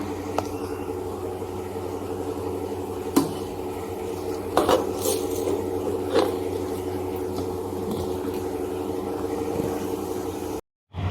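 An electric grinder runs steadily as it grinds roasted curry leaves into powder, a constant motor whir with a few sharp knocks and rattles before it cuts off near the end.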